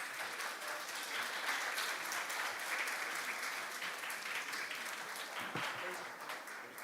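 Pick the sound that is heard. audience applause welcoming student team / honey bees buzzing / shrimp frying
audience applause welcoming student team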